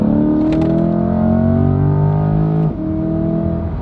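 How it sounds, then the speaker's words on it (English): A car accelerating hard in track mode, its engine note rising steadily in loud, sustained harmonic tones that climb in pitch, with a brief dip near the end as it shifts gear and pulls on. "I'm just gonna go ahead and step on the gas in 3, 2, 1"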